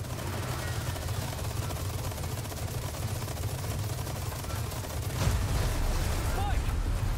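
Gunfire in the Resident Evil 4 Remake video game, a steady dense roar of shots with a sharper burst near the end, loud and continuous alongside game music and effects.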